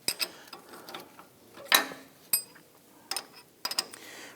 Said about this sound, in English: come on in with your wrench and just tighten them down by hand